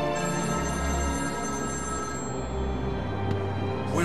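A telephone rings inside the game Batman: Arkham City, a steady bell-like ringing that runs throughout over a low in-game ambient hum and music bed, with no talk.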